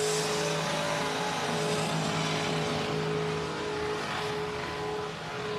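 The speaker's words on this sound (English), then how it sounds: "The RX-8. Good, a little bit of horsepower." A Mazda RX-8 at the Summernats skid event drones in a steady, loud, continuous engine roar held at high revs, with crowd noise blended in and no speech.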